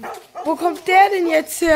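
Barking from a neighbour's dog in a German-dubbed cartoon, a few short yapping barks and whimpers mixed closely with excited talking voices.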